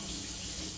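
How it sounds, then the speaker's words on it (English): Tap water runs steadily into a kitchen sink as hands are rinsed, a continuous hiss-like splash heard alone for under a second. "I'll just rinse my hands."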